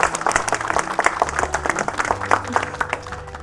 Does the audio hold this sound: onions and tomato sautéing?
no